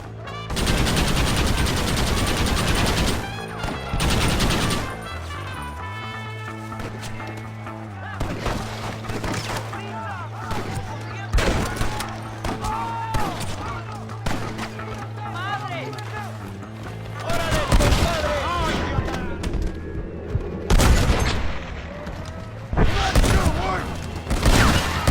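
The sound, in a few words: gunfire during shootout in Red Dead Redemption video game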